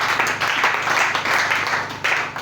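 A church congregation applauding during a French-language sermon, a steady crowd clapping that holds at even strength throughout.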